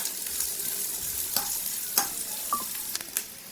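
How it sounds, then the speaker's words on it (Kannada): Onions sauté in a hot pan with a soft, even sizzle, while a few close, sharp scrapes and taps of a spoon stirring them stand out against the frying. "ಈಗ ಈರುಳ್ಳಿ ಚೆನ್ನಾಗಿ ಬಾಡಿಸ್ಕೋಬೇಕು"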